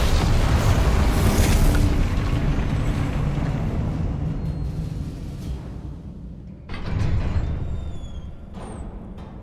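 Explosion of the Confringo spell in the Hogwarts Legacy video game, a loud booming blast that fades into a rumbling decay, followed by a second, smaller burst.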